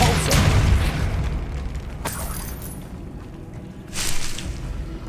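A Repulso spell is cast in the game Hogwarts Legacy, a deep, forceful whoosh and boom up front, followed by a sharp crack near the middle and another bright blast near the end.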